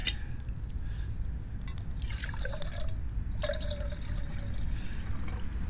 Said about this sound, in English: I'm going to pour in a cup of water here